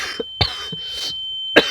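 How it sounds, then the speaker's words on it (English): A person coughs in several short, sharp bursts spaced across under two seconds, close and fairly loud, with a faint steady electronic tone behind. "Why am I coughing?"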